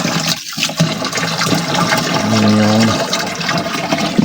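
Water runs steadily into a container to mix a fertilizer solution for watering young cucumber seedlings, a continuous pouring rush with a brief tonal rise as it fills, a word spoken over it.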